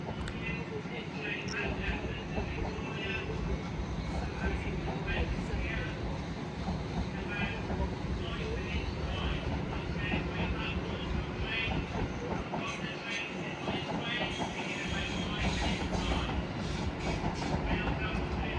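A Class 701 electric multiple unit, 701 009, pulls away from Clapham Junction on a Reading to London Waterloo service, a steady rolling rumble with clicking wheels over rail joints as someone talks over it.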